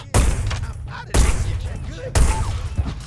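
Shotgun fire in the video game Hitman: Blood Money: three loud, booming blasts about a second apart, each with a heavy low thump and a ringing tail.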